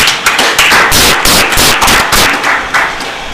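Dense crowd applause, loud and close, with sharp overlapping claps running steadily throughout without any talking.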